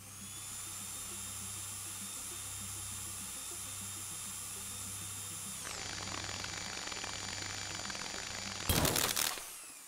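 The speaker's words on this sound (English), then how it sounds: "Proceed to drill the surface. This is 4. Drill press. Switch drill on." A drill press in the video game Stories Untold whines steadily and fairly loud with a high tone, shifts pitch partway through, then ends in a short harsh burst of grinding noise.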